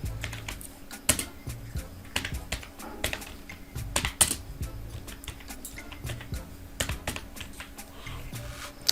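Rapid typing on a computer keyboard while a name is entered into a bank account form, with close, crisp keystrokes in uneven bursts and short pauses, loud and alone without talk.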